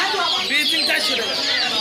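Chickens and ducks at a rural haat livestock market, dense overlapping clucks close by with a crowd's voices mixed in.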